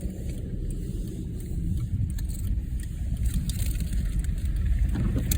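A car creeping slowly through snow while turning, giving a continuous low engine rumble and tire crunch with faint rattling, close and steady throughout.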